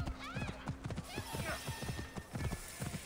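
Rhythmic hoof clip-clops of a horse moving at pace in Assassin's Creed Origins, with a whinny near the start and a steady high electronic tone behind.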